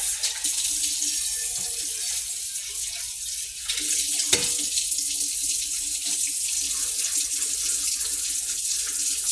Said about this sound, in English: I don't want this big frying pan in my sink, so I'm just gonna wash this